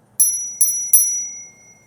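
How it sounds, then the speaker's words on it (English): Three crisp rings of a thumb-flicked bicycle bell on an Engwe E26 fat tire e-bike, each bright ding decaying over a short moment, close and clear with quiet background. "I also forgot to mention this does have a nice bell."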